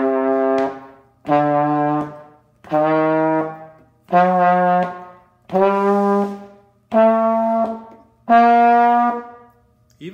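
A wind instrument plays seven sustained notes stepping up a scale in a warm-up lesson, each held about a second with short breaths between, clear and close.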